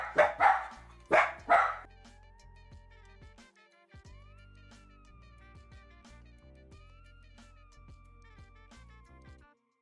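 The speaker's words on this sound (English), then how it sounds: "I had to mute because they were just barking like crazy" Dogs bark indoors: a few loud, sharp barks burst out at the start, then fade as quieter tonal background sounds carry on.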